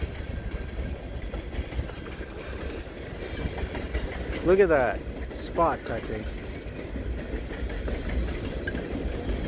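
CP mixed freight train with three engines rolling past at night in snowy winter, a steady close rumble and rattle of cars on the rails, with a few brief voices speaking over it.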